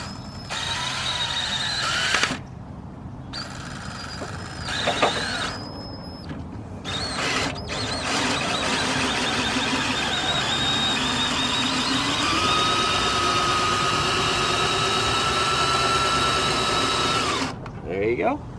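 A power drill cranks a scissor jack, whirring almost continuously for a long stretch, its pitch rising and steadying as it runs, with a few short pauses and mechanical clatter.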